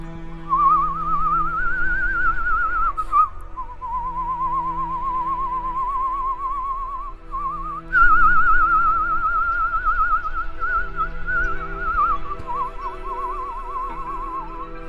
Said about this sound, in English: So I can whistle both directions